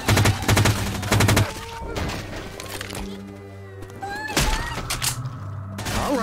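Rapid bursts of automatic gunfire in the zombie shooter Left 4 Dead 2, loud and close at the start, then scattered single shots and clatter with game sounds between, no talk.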